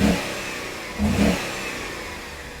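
An old car's engine revs quietly, with a low, muffled grunt in two short swells over a soft idle, close by and otherwise steady with no talk.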